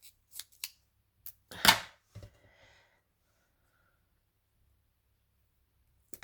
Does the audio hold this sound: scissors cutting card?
yes